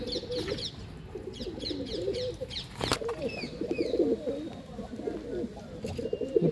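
Pigeons coo in soft repeated phrases close by, with a few sharp clicks and light chirps mixed in and no talk.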